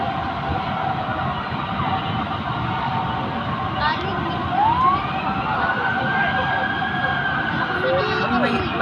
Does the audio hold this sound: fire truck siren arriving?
yes